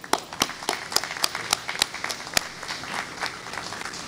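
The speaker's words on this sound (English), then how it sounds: "I just want to give a round of applause to everyone that does that" An audience at a 9/11 memorial ceremony applauds first responders: crisp, distinct claps ring out over a softer bed of scattered clapping, steady for several seconds with no talking.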